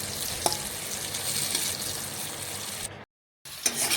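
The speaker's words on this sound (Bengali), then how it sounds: "আলুটা কিন্তু ভাজা হয়ে গেছে। আমি দেখুন এইভাবে নাড়াচাড়া করে নিচ্ছি" Potatoes fry in oil in a kitchen pan with a continuous crackling sizzle, close and loud, while being stirred now and then. A brief silent gap cuts in before the hiss resumes.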